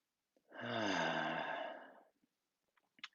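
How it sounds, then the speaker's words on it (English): A single long, audible deep breath, drawn and released as a slow sigh close to the listener, followed by a few faint clicks and quiet stillness. "So taking one more deep breath"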